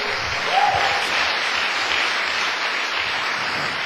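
Congregation applauding at a Portuguese-language church service, a dense steady wash of clapping held for several seconds, with a brief voice or tone rising near the start.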